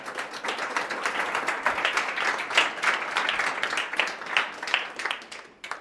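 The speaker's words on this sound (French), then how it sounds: "vous pouvez lui faire un chaleureux applaudissement et l'accueillir chaleureusement" Audience applause welcoming a speaker onto the stage at a French talk on the brain, a dense, steady wash of many hands clapping at close range for about six seconds, with no speech over it.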